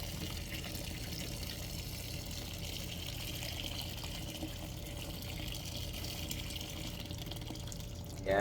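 Water runs and splashes quietly in a steady stream as food is washed and soaked in a basin in a kitchen, a faint continuous wash that ends in a brief louder splash.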